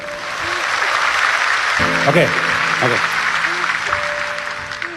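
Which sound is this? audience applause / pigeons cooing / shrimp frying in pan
audience applause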